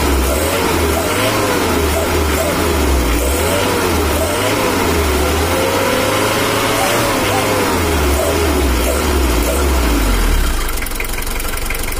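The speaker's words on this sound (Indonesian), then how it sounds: "Bunyinya itu bunyi knalpotnya di gas besar bunyi" Engine exhaust revs up and down repeatedly after the injection pump is tuned, a loud, close, rumbling throb rising and falling over a steady idle, with faint talk in the background.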